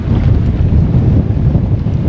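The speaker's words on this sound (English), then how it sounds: "Tis a tidbit windy." Strong wind roars across the microphone on a sailboat at sea, a loud, continuous low rumble with no break and no voices.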